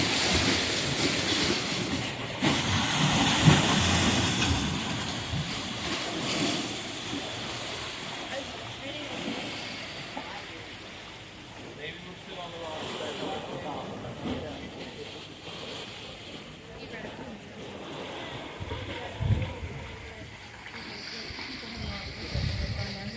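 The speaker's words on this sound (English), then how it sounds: "there's plenty of waves making plenty of noise" Ocean waves on the Maine coast near high tide, a broad steady roar and hiss of surf washing in and out close by, with a voice speaking over part of it.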